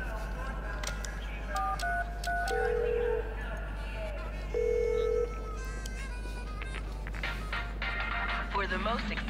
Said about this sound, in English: We might as well call this phone number before we actually go and visit Aunt Sarah in Lower East Side and Butcher Joyce.